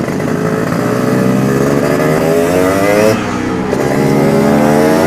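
A Casa Performance-tuned car engine pulls hard and loud under acceleration, its rising tone climbing steadily, briefly dropping as a gear changes, then building again, with no talk over it.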